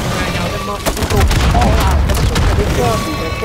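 Dense fireworks barrage in Call of Duty MW3 Zombies, with continuous booms, crackles and rapid bursts layered into a loud, sustained roar, while players talk over it.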